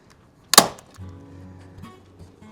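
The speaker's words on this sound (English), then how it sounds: "I do have a low voltage staple gun that I'll probably just staple this" A low voltage staple gun driving a staple over a wire while mounting a Walmart Hyper Tough solar LED light: one sharp, close snap followed by faint handling noise and a low hum.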